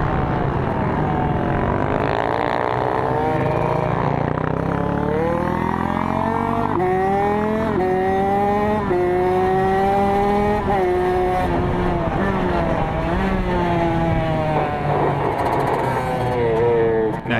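A Kawasaki KX65 dirt bike laps a track-day circuit, its small engine whining steadily and close, with repeated rising and falling revs as it shifts and brakes through corners.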